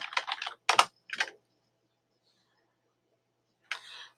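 Several quick bursts of keystrokes on a computer keyboard as a git init command is entered, a pause of silence, then a final short flurry of typing; close and alone.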